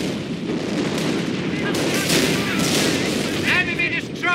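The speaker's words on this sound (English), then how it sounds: "The howitzers are putting holes in our defenses!" Howitzer artillery fire in the Company of Heroes video game, heavy booming blasts and gunfire thudding continuously under a busy battle soundscape, with voices calling out over the din.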